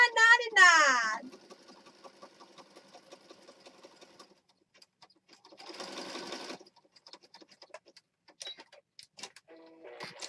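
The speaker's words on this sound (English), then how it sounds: "One more cover to sew." A sewing machine stitches a small mini journal cover in two short runs of rapid ticking stitches, with a voice speaking briefly at the start and a few soft handling sounds between.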